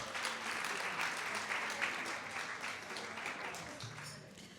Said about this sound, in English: Give you the round of applause for yourself.